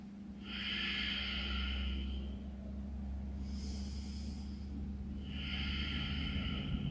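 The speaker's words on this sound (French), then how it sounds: "Gardez votre respiration Ujjayi." Slow, steady Ujjayi breathing through the nose during a beginner vinyasa yoga flow: three long, airy hissing breaths, each a few seconds long, with a constant low hum beneath and no talking.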